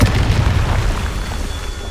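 A Confringo blasting spell goes off in a video game with a deep, loud boom that rumbles heavily at first and then decays into a fading rush over about two seconds.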